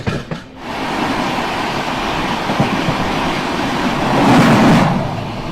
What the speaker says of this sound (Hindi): Mumbai CSMT Howrah mail via गया।